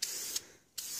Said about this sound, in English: I don't think you have to use an entire spray paint can on something small like this